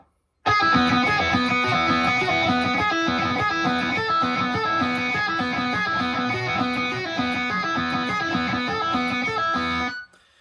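A loud, driving distorted electric guitar riff from a song with a fast galloping rhythm and quick pull-off notes, played continuously for around ten seconds.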